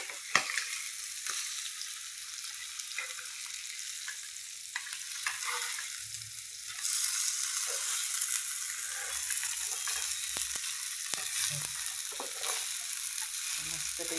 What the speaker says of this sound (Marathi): तरी मी असे परतून घेते बघा, छान असे परतून घेते.